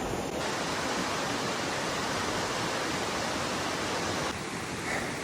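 Waterfall pouring into a deep pool below a riffly whitewater stretch on a Maryland stream, a loud steady broadband roar of falling water that fills the whole clip with no voices.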